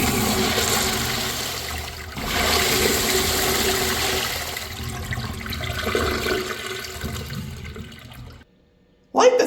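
A first-generation Crane Manhattan urinal flushes through its rim jets with a steady, loud rush of water that runs for about eight seconds, then cuts off abruptly, followed by a brief sharp noise.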